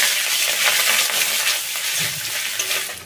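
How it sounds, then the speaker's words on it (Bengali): Ginger paste fries with tempering spices in hot oil. It makes a loud, close, continuous sizzle with light crackling throughout. "ফোড়নটা ভালো করে ভেজে নিয়ে এতে দিয়ে দেবো 1 চামচ আদা বাটা। আদাটাও ভালো করে ভেজে নেব"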